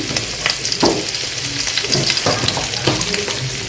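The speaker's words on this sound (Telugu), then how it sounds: "ఇందులో మనం ఒక 1/2 స్పూన్ జీలకర్ర వేస్తాం. అలాగే ఒక రబ్బ కరివేపాకు." Cumin seeds and curry leaves sizzle in hot oil before the onions go in, a steady close frying crackle with a few stirring scrapes and bursts of louder spitting, no one speaking.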